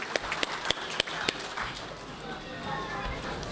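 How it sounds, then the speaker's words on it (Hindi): At an IABJ Bihar and Jharkhand Diwas gathering, a few sharp, separate handclaps ring out in the first second, then fade into a low, steady murmur of the room. "तालियां बजाएं भाई"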